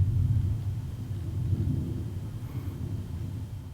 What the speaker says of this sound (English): The thunder and lightning are rolling outside.